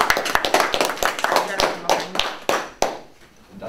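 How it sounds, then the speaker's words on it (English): Small group clapping on cue at the start of a school broadcast game segment, a few loose uneven claps under overlapping chatter and voices. "Clap!"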